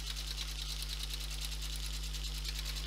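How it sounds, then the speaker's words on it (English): Brother F420 sewing machine stitching forward, reversing a few stitches and going forward again, a steady close mechanical whir with rapid needle clatter throughout and no talk. "The machine will stitch forward a few stitches, backwards, and then come forward again."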